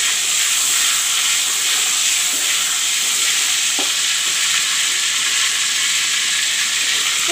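Chopped onions frying in oil for a brinjal and potato curry give a steady, loud sizzle with occasional stirring clicks, continuous throughout without any talking.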